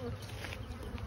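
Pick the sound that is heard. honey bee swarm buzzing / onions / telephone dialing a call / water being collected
honey bee swarm buzzing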